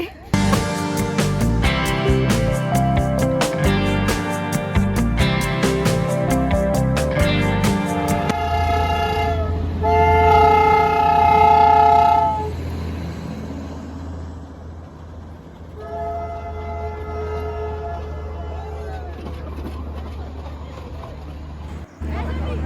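Darjeeling toy train on the Batasia loop, a rhythmic chuffing and rumble up close that gives way to long sustained horn-like tones and a low engine drone, heard under background music.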